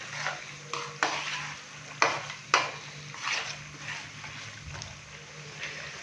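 Mutton with pickle is stirred and cooked in a pan for achari mutton pulao, with soft sizzling broken by several sharp scrapes and clacks of a spoon against the pan, fairly quiet and close.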